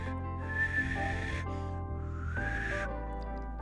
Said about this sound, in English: I can whistle breathing in, but I can't whistle breathing out.